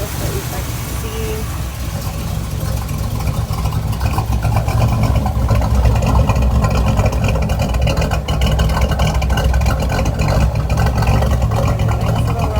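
A 1965 Chevrolet Corvette Stingray with its 327 V8 idles with a low, steady rumble at close range, the drone swelling slightly after the opening seconds and holding even throughout.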